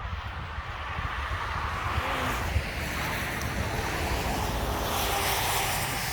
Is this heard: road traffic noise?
yes